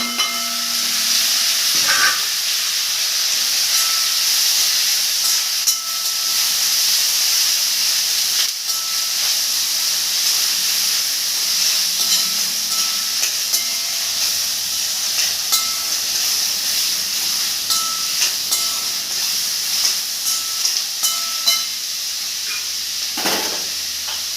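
Chopped onions and curry leaves sautéing in hot oil, a steady close hiss and sizzle with occasional stirring knocks throughout.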